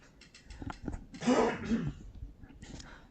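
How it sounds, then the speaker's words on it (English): A burst of harsh coughing with a throat-clearing rasp, fairly close, lasting a couple of seconds before fading into quiet. "Excuse the coughing in the background."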